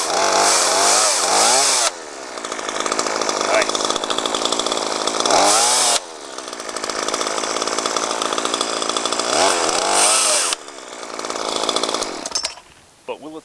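A Craftsman 42cc S185 18-inch chainsaw runs loud and close, its engine buzzing at high revs, dropping to a lower idle and revving up again several times before cutting off at the end.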